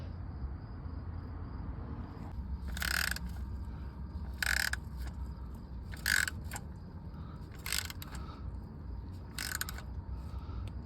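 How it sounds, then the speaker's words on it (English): Torque wrench tightening oil pan bolts on a 2012 Jeep, several sharp ratcheting clicks in short bursts spaced about every second and a half, close and distinct over a quiet garage background. "I torque it with this bad boy right here."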